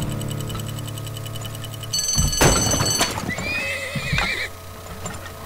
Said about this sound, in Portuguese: Cavalo, cadê o cavalo?